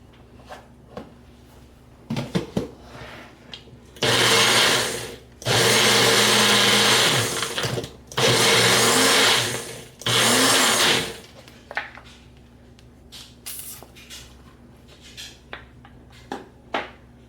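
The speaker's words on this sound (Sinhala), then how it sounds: "වැඩි බ්ලෙන්ඩ් කරගන්න අවශ්‍ය නැහැ" A kitchen blender whirs through homemade vegetable soup in four loud bursts, the high motor roar changing pitch as it churns, with quiet handling clatter before and after.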